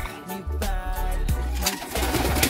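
Racing pigeons entered in a fun race coo and call close by, a steady low cooing that continues with brief pauses, with no talk.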